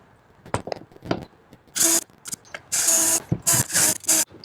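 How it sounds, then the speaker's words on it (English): A power drill or driver runs in several short bursts while driving screws to fix an overhead mount for an Amcrest UltraHD 4K turret PoE camera. Smaller clicks and handling knocks fall between the bursts. "So now I'll attach this with some screws."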